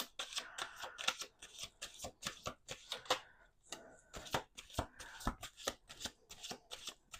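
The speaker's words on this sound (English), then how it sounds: "Let's do 2 more shuffles." Playing cards riffle and snap in quick repeated bursts, a close, crisp shuffling rhythm with brief pauses between flurries.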